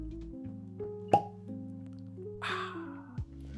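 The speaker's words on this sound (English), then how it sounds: "Pause for cork pop." A cork pops from a Russell's Reserve Private Barrel bourbon bottle, giving one sharp, close pop in the middle, followed a moment later by a softer airy release.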